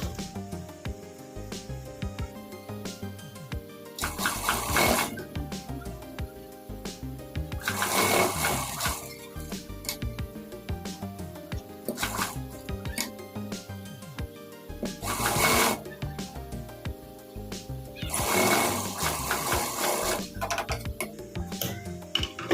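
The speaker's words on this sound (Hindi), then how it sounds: "ये देखिए दोस्तों हमने इसके चारों तरफ सिलाई मार दी है।" A sewing machine stitches around the edges of a salwar waistband, its steady mechanical whirr running continuously up close, with several louder surges where the stitching speeds up.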